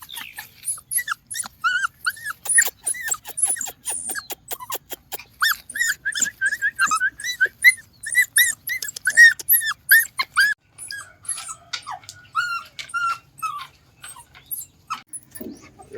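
Dogs guarding a hut whimper and whine in rapid high-pitched bursts for most of the span, with a few low growls, close by and fairly loud, tapering off toward the end.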